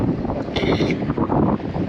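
Strong gusty wind roars across the microphone at a prayer park in Texas, a loud, continuous rumble with blustery surges throughout.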